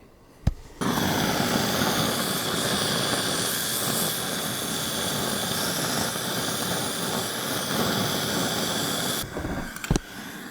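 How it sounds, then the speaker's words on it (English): Camera drone lifts off from a campsite beside a stock Ford F-150 and keeps flying, a loud steady propeller whine and buzz running unbroken for about nine seconds with no talk, cutting off sharply at the end. "So let's throw the drone up."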